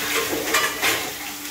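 Water splashed onto papaya frying in a pan, a brief loud hissing sizzle with a clink of utensils against the pan, close up with no voices.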